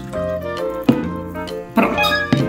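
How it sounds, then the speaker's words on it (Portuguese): Water poured into a homemade fever tea, splashing and trickling unevenly with a few louder gushes over about two seconds, close by with no talk. "Aqui vamos completar com água."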